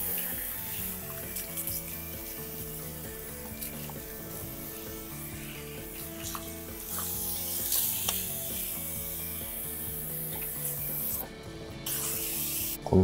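Water sprays at a salon sink to rinse bleach from hair, a steady hissing stream with splashing and rubbing that runs throughout, loud and close, with no speech.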